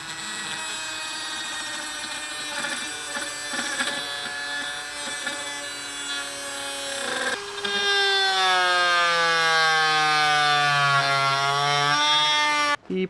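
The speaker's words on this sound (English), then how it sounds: "So I will be using this Dremel tool with kind of a routing" A Dremel rotary tool fitted with a routing bit whines steadily as it carves into wood, its pitch sliding down and wavering under load in the second half, close and loud with no talking.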